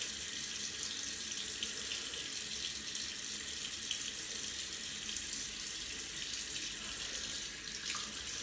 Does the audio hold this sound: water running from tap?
yes